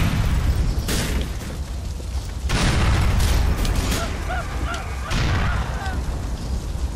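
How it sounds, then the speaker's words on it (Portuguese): Grenade explosions in Grand Theft Auto IV on PlayStation 3, several loud booming blasts spaced a second or two apart over continuous rumbling game noise. "Só na granada, fi!"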